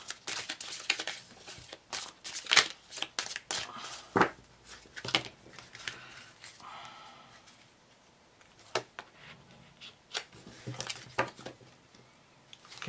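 Tarot cards shuffled by hand, giving crisp, papery riffling and slapping bursts in an irregular rhythm, close and moderately loud.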